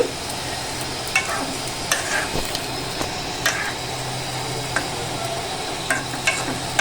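Garlic tempered in hot oil fries with peas, carrot, a small potato, cauliflower stalks and bean seeds in a pan: a steady close hiss broken by repeated sharp clicks and scrapes of stirring.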